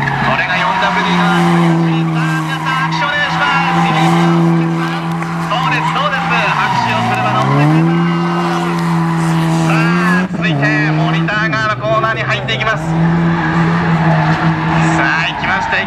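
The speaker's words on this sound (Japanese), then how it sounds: "4WD でのドリフト" A Subaru STI with four-wheel drive drifts, its engine roaring and revving up and down while the tires squeal and skid in long sweeps, loud and continuous under an excited commentator's voice.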